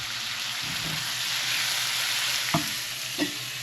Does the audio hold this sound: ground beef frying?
yes